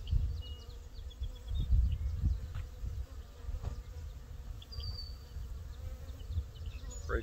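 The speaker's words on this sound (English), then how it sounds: "They're starting to walk around on it and smell the good bee smells." A honey bee swarm buzzes steadily around a hive frame outdoors, a dense low droning hum from many bees with individual bees flying past closer now and then.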